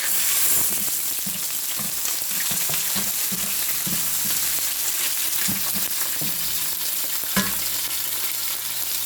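Tomatoes and red bell pepper fry in a pan with a steady, loud sizzle, broken by the soft repeated scrapes and knocks of stirring, with no one talking.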